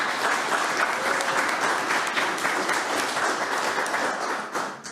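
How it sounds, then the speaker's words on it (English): Sustained applause from the audience at a school district board meeting, a dense steady wash of clapping that holds loud and even for several seconds before starting to thin out at the end. "that's the first time I've ever given a report and had an applause"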